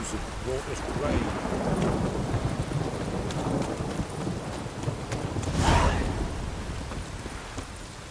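Thunderstorm with steady rain in The Witcher 3: Wild Hunt, a continuous wash of rainfall with low rumbling thunder swelling twice, strongest near the middle and end, and no talking.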